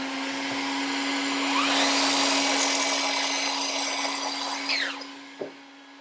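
A workshop dust collector runs as a steady, loud broadband whoosh with a constant low hum, its pitch sweeping up near the start and winding down sharply near the end as it is switched off.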